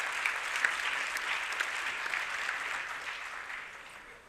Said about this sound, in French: Vos applaudissements.